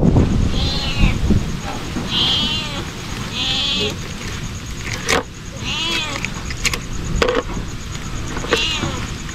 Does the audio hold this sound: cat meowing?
yes